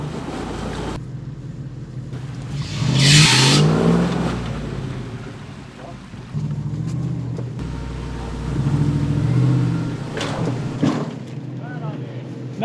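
A 4WD vehicle crawling up a rough track, its engine rumbling low and revving in surges, with wind buffeting and some crunching, close and fairly loud.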